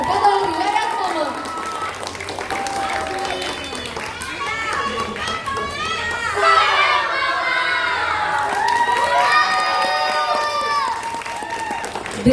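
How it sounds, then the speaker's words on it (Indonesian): An audience claps and cheers after a school class stage play, a dense wash of applause mixed with children's shouts and lively crowd voices throughout, fairly close and sustained. "beri tepuk tangan untuk lakon Sepotong Riwayat Mama"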